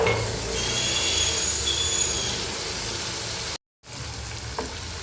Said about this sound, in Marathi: 1 चमचाभर हिंग आणि आपण वाटून घेतलेला लसूण घालूया।